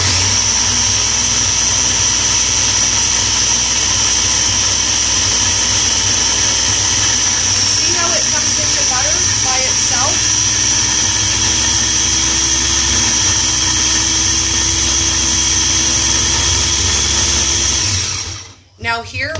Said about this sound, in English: So let's grind it a bit more.